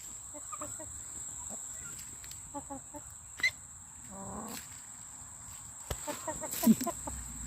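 Farm chickens cluck and squawk in scattered short calls over a faint outdoor background with a steady high insect-like whine, some calls near and a few louder bursts.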